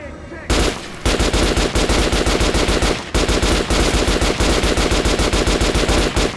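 Weapons fire in the shooter game Metro Last Light: loud, rapid automatic bursts in a near-continuous stream, broken by a brief pause near the start and another midway, with no talk.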